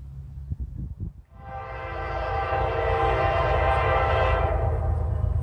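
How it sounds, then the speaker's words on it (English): A southbound intermodal freight train approaches in Carlisle. A few brief knocks come first, then the horn swells into a loud, sustained chord over the rumble of the nearing train. "Southbound Intermodal coming at you."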